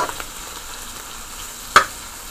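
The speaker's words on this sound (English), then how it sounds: "So just checking, it's frying up really nice." Beef and cabbage stir fry sizzles in a pan, a soft steady frying hiss with a few brief crackles and one sharper pop, no talking.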